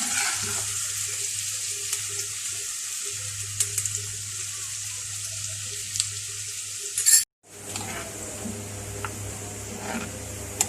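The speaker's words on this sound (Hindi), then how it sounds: "ये देखिए तेल में मैंने इन सारी चीज़ों को 10 से 15 मिनट पकाया" Herbs and other ingredients frying in oil for a homemade hair oil on a stove turned up high, giving a steady sizzling hiss with occasional ticks and stirring clicks, briefly cut near the middle before resuming.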